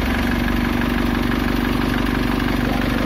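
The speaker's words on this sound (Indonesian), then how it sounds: "Lalu kita starter ya teman-teman." A KIA Pregio van engine, worked on during alternator service, runs at a steady idle with a constant low drone and even mechanical vibration, loud and close throughout, with no talking.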